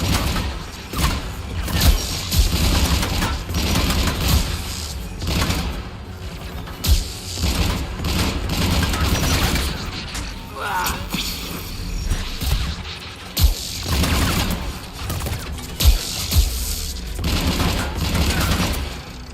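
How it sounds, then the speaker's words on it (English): Anti-aircraft guns firing in Mass Effect, repeated heavy thumping bursts and booms with mechanical clatter, loud and dense over a rumbling battle background. "AA guns ahead of us."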